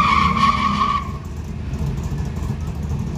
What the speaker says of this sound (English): Got the Jetta going up against the Corvette.